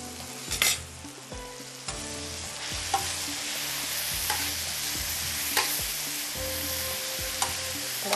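Green chillies and black peppercorns fry in a pan for a tawa tikka gravy, giving a loud, continuous sizzle with intermittent stirring knocks, close up and without talk.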